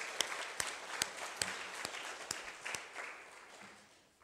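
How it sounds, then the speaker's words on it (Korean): A church congregation at a Sunday service claps together in a soft, scattered round of applause with a few sharper claps standing out, tapering away toward the end. "이 시간 우리 한번 영광의 박수를 한번 돌려드리겠습니다."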